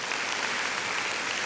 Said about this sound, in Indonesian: Ayo kita kasih tepuk tangan yang paling meriah buat Tuhan kita